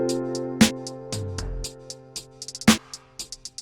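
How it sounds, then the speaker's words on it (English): A tuned tom drum sample from the Nexus 3 library, played in key within a sparse beat: a few loud resonant tom hits stand out among lighter, clicky percussion and low sustained tones, with no voices. "that tom sounds like this"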